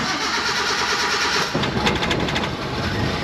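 An old mini truck engine cranks with a steady churning whir, then catches around the midpoint and settles into a rough, rattling idle, loud and close, with no talking.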